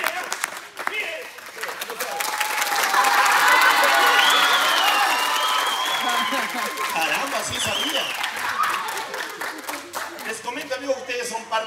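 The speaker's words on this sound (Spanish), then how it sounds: "muchachos, un aplauso" A circus audience at a Circo Royal show in Chilete applauds and cheers as a crowd, with children shouting, while someone speaks over the steady clapping throughout.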